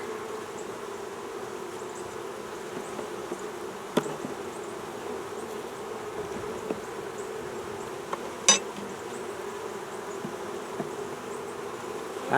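Honey bees buzz steadily at a hive in cold weather, a soft continuous drone with a few faint clicks and taps, close but quiet, with no talk.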